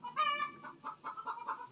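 Chickens cluck softly nearby in a sheltered off-grid chicken shed, a short squawk followed by a run of quick, quiet clucks.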